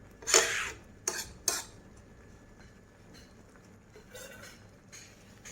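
A spoon stirs butter into an egg gravy in a pan, with a few quick metallic clinks near the start, then a faint, soft stirring sound.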